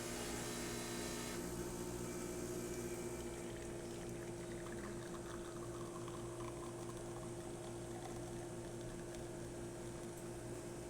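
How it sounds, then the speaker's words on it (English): A Rocket espresso machine pulling a shot: a steady low pump hum with a hissy, gurgling flow that softens after the first seconds, continuous and close with no voices. "It's pulling a great espresso shot."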